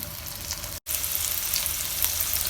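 Masala for spicy desi-style pasta frying in a pan over a medium flame, a loud continuous sizzle up close with one brief cut to silence, no voices.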